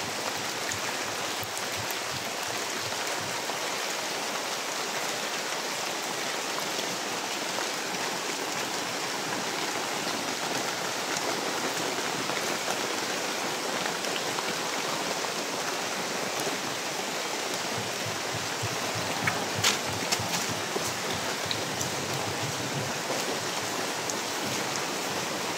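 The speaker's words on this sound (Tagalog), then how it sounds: "malakas talaga ang ulan ngayon" Heavy rain pours down in a steady, dense hiss that stays loud and unbroken throughout, with a few sharper drip spatters near the end and no voices.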